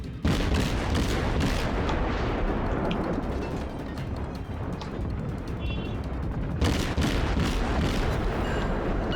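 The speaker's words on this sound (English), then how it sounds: "He is firing away and giving his position away." A warship in World of Warships fires its main guns in heavy booming volleys during a ranked naval battle, a loud blast at the start and another burst later, with rumbling explosions and echoing concussions between them.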